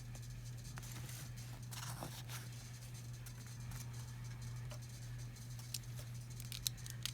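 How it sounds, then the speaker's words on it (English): Scissors snip paper for a journal pocket, with faint, quiet crisp cuts and light scraping clicks spaced over a low, steady background hum. "I'm going to cut it again"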